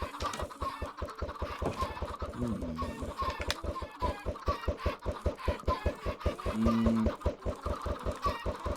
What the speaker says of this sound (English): Now the chickens can stay inside.